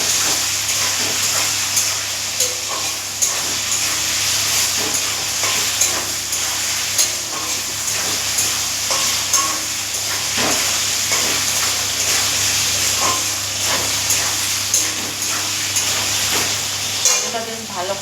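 Food frying and sizzling steadily in a pan as it is stirred, with regular scraping strokes recurring over the continuous hiss throughout.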